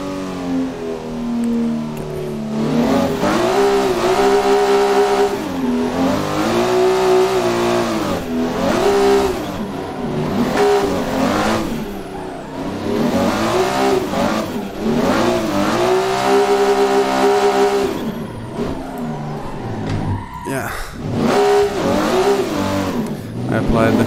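A Nissan S15 drifting at Bikernieki, its engine revving hard in repeated rising and falling surges with brief lifts of throttle, loud and close, while someone talks over it throughout.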